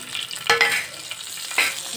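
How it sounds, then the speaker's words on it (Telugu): Mustard seeds and cumin hit hot oil in a pan for a tempering, giving a loud, close sizzle with a couple of sharp crackling bursts and a stir. "ఆవాలు జీలకర్ర వేసేసి పోపు అయితే పెట్టేస్తున్నాం"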